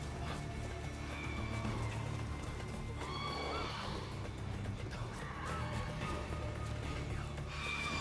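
Roach, the horse in The Witcher 3 video game, whinnies over a steady bed of game ambience and low rumble, with hoof clip-clops mixed in throughout.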